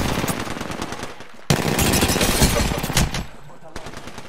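Rapid automatic gunfire in an Apex Legends match, loud bursts of machine-gun shots in quick succession with a brief pause, then heavier firing, with faint voices in the background.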